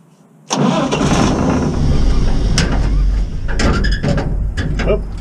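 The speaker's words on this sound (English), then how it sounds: "ignition on" A homemade double dually mutt truck engine cranks and catches abruptly, then runs loud and rough at a steady idle with some uneven revving, close to the microphone.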